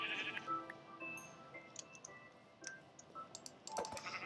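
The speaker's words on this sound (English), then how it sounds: "Oh my god, there's so many sheep," Sheep bleat in a video game, several short bleats from more than one animal layered over soft clicking like keyboard typing.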